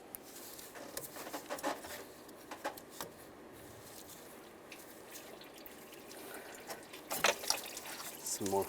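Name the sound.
coolant draining from Chevy Silverado engine hoses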